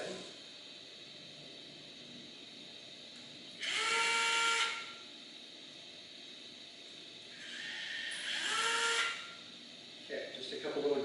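A power drill-driver backs out small grub screws on an IBM Selectric III typewriter during teardown, giving two separate whirring bursts of a few seconds each over a quiet background, with a short buzzing start near the end.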